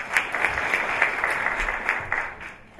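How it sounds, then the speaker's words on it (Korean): At a 2018 school entrance ceremony, an audience claps steadily, a dense ripple of hands with a few sharper claps standing out, fairly close and tapering off toward the end. "박수 부탁드릴게요."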